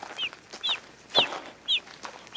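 Chickens clucking and peeping in a chicken tractor: a bright, high call repeats about every half second, soft and fairly close, with faint rustling between.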